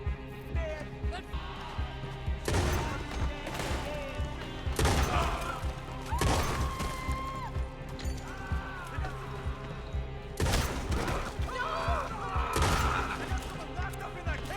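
Gunfire in a shootout in Red Dead Redemption 2, with repeated sharp loud shots spaced irregularly and booming impacts, near and prominent, with brief shouted voices in between.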